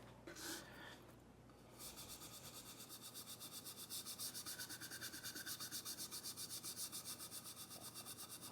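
A brush loaded with a little pigment paste scrubs across a damp woodblock for Japanese mokuhanga printing. It makes a close, soft, rhythmic rubbing in quick repeated strokes, and a few brief handling sounds come first.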